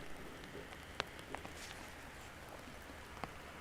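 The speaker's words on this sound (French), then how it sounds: "C'est sous la pluie" Rain falls on a golf course, a faint, even patter with a few distinct drops landing nearby, quiet and without voices.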